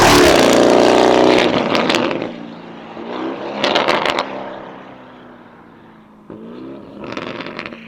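Lamborghini Urus widebody SUV with a downpipe, its engine loud and revving hard up close, then settling to a lower rumble before revving again.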